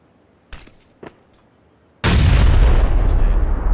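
A grenade goes off in the PUBG battle royale game: two short sharp pops first, then a sudden loud blast that roars on as dense rumbling noise to the end.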